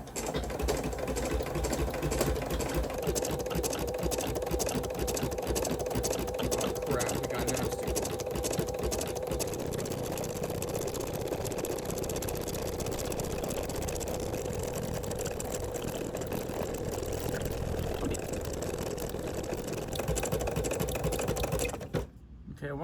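Steady, rapid mechanical stitching from an embroidery machine runs continuously at close range, with a rhythmic clatter that stops abruptly near the end; a voice talks faintly underneath.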